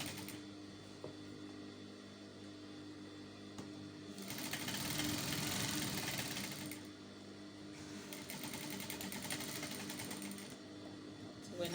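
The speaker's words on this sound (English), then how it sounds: "I'm going to go ahead and overlock the pocket bags." Overlock sewing machine serging the pocket bags of an off-shoulder dress, with a steady close mechanical whir that runs in two sustained bursts separated by quieter pauses.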